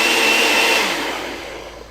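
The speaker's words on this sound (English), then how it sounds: "this is a very good blender that I like to use" A blender whirring as it purees soaked rice, water and cinnamon for horchata, a loud steady motor roar that gradually winds down and fades over two seconds, with no talking.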